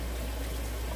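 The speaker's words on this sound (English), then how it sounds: "I'm gonna rinse the knife off" Tap water runs steadily in a kitchen sink as a knife is rinsed, a constant close hiss and splash with no talk.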